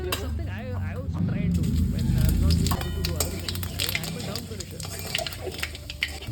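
Whole cumin seeds, with a dried red chilli and bay leaves, hit hot oil in a pan and sizzle and crackle loudly while a voice speaks over the spitting. The fizz is busiest early, then settles into scattered pops.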